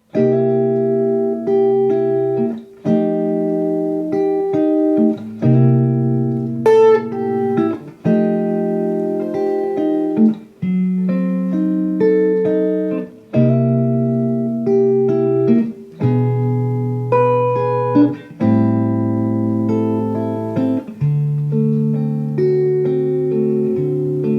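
Slow, sustained guitar chords ring out one after another in an unhurried blues progression, clean and close, with no voices.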